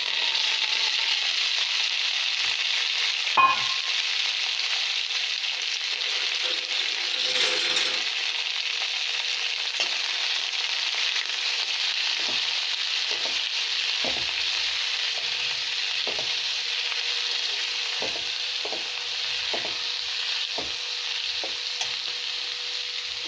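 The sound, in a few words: sautéing coriander leaves and tamarind in a pan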